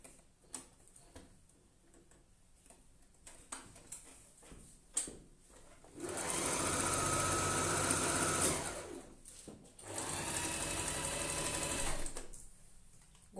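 A Janome heavy-duty sewing machine running at maximum speed, in two loud sustained bursts of rapid stitching separated by a short pause, with scattered quiet clicks and handling sounds before and between them.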